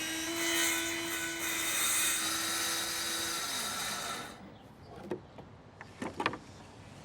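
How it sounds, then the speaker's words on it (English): Circular saw cutting through a wooden bench, a loud high whine that runs for about four seconds before spinning down, followed by a few knocks and clatters as pieces are handled. "I'm gonna use a circular saw for this."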